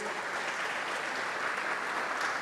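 A church congregation claps for Jesus during an evening service: dense, continuous applause from a large crowd filling the room, steady and unbroken throughout.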